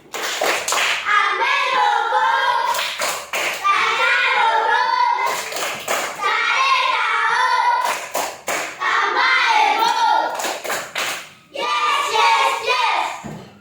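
A group hand-clapping ice-breaker game of the tepuk kind, with close, loud bursts of clapping in rhythmic clusters separated by short pauses, mixed with voices chanting and speaking along.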